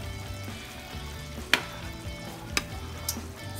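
Shrimp fry in a pan with coconut milk, giving a steady close sizzle broken by a few sharp clicks of a utensil against the pan.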